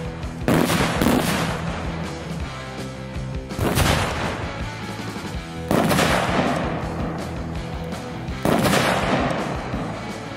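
Gunfire at an outdoor firing range where non-lethal grenades are demonstrated: four loud, sharp blasts spaced a couple of seconds apart, each followed by a decaying echo.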